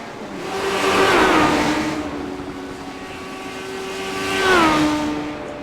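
Race cars lap a 3/4 mile asphalt track during practice, two engine passes swelling loud and fading with a falling pitch as each car roars by, a steady drone in between.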